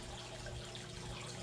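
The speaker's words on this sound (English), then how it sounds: "I filled the tub up a little bit" Water running steadily from a tap into a hot tub, a continuous, even hiss of filling water, fairly close and alone with no talking.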